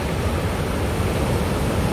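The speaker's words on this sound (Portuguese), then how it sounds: "Aqui as águas estão fortes" Strong water rushes through a reservoir spillway at Açude Pacotí, a loud, dense and unbroken roar that stays constant from start to finish.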